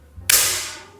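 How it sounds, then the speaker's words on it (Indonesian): A single sharp report from a Predator semi-CNC PCP air rifle, close and loud, with a sudden crack followed by a brief ringing decay, alone without talk. "kita coba tembak lagi"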